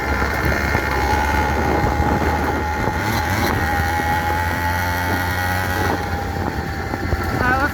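Small two-stroke engine on a motorized bicycle, a loud, steady, buzzing drone with a whining tone as it pulls into the power band, close and continuous throughout.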